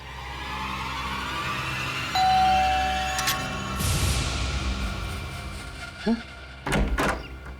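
A door opens in a TV crime drama scene: a bell-like tone rings out, a whooshing swing follows, then several solid clunks and thuds near the end, with room noise throughout.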